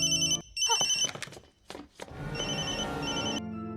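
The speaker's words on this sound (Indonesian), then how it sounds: "suara dering telepon Kalpana membuat para penjahat kembali mencari" A telephone rings in bright repeated trills, broken by brief bursts of other sound, then rings again steadily and loud with no talk over it.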